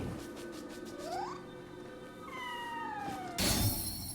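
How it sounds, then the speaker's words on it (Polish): A cat meows in a few drawn-out, rising and falling calls over a low background hum, followed by a brief burst of noise, in the video game Nioh 3. "No to jest kot."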